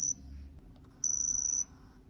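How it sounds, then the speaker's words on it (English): Two thin, steady high-pitched electronic tones from a 1996 Playmates Star Trek: First Contact toy phaser dialing between kill and stun, a brief beep then a longer held whine, against quiet background hiss. "That's the sound of dialing up and down kill to"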